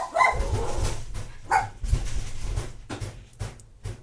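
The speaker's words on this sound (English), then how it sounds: "Dogs." Dogs bark a few times nearby, sharp separate barks over a low steady background hum.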